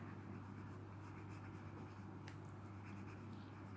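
A sketching pencil drawing lines on paper, with faint, steady scratching under a constant low room hum, close and quiet.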